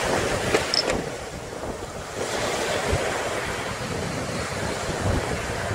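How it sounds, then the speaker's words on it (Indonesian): Surf rolls and breaks continuously along Klotok Beach, a broad steady roar of ocean waves mixed with wind buffeting the microphone, with a few louder swells, no voices. "menikmati indahnya deburan ombak"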